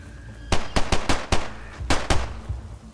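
A burst of gunshots from DayZ combat: about seven sharp, loud reports come in uneven clusters over a few seconds, with no talk over them.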